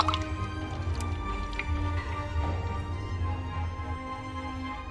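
Ice cubes stirred into a sweet melon-syrup iced drink (es kuwut), with steady wet sloshing, dripping and clinking close up throughout, no talking.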